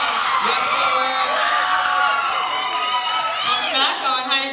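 A school pageant audience cheers and whoops loudly and continuously, a dense crowd roar with high shouts rising throughout, steady and close.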